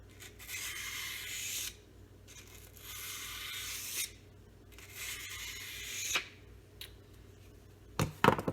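A Bark River Santos knife is convex-sharpened to remove the burr, giving four long, soft rasping strokes near and alone with short pauses between, then a few quick sharp knocks at the end.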